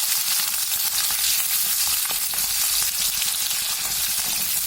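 Onion hits hot oil already holding mustard seeds, chana dal and green chilies, setting off a loud continuous sizzle with stirring scrapes underneath, close and constant for several seconds.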